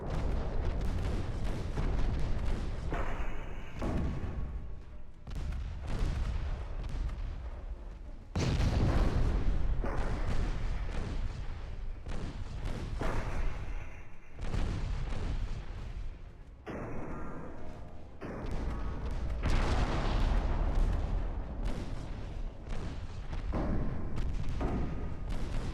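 Salvo after salvo of 9-inch naval guns thunders in the naval video game Ultimate Admiral: Dreadnoughts, heavy booming blasts recurring every few seconds with rumbling tails over a continuous battle din.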